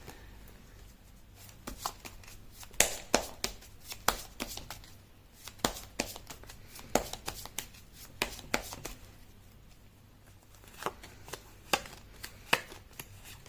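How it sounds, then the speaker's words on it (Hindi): Tarot cards are shuffled by hand in quiet, irregular bursts of crisp riffling and tapping clicks, close up and with no talking. "कर लेती हूँ कार्ड की शफलिंग।"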